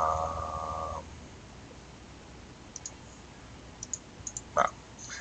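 Several sharp, faint computer mouse clicks, single and in quick pairs, on a Windows 7 PC, spread across a quiet stretch after a brief hum fades.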